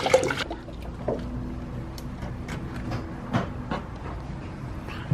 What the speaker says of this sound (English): now we're gonna fill up the cooling system and see if we have any types of leaks